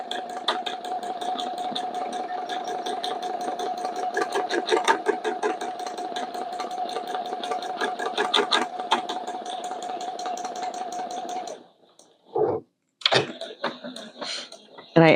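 A domestic sewing machine runs steadily while quilting, a fast, even mechanical hum with a regular stitching rhythm, close and continuous before stopping briefly and restarting in short bursts.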